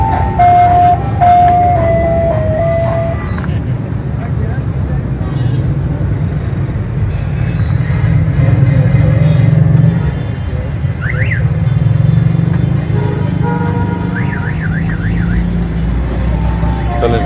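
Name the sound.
Suzuki Khyber car engine running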